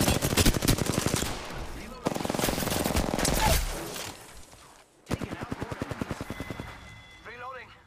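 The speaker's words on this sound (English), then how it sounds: "Opening fire on the enemy." Rapid automatic gunfire in the video game Apex Legends, loud bursts of repeated shots filling most of the stretch with a brief pause midway, with a voice speaking over the firing.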